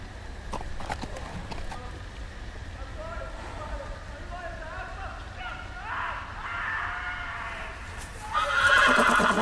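A horse whinnies loudly near the end of this scene from the Telltale Game of Thrones video game, after quieter hoof clatter and ambient game sound.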